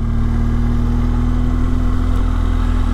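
Motorcycle cruising on a motorway with a pillion aboard, a steady loud engine drone with a constant low hum and wind roar throughout, no talk.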